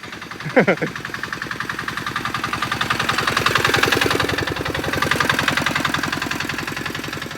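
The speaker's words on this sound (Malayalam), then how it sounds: "എൻജിൻ ബാൻ വരുന്നുണ്ട് കേട്ടോ, എൻജിൻ ബാൻ." A village engine van in rural Bengal chugs with a rapid, steady mechanical throb that swells slightly as it nears, with a brief voice near the start.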